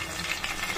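Mustard seeds sizzling in hot oil in a pan on the stove, a short close crackle with small pops over a steady hiss.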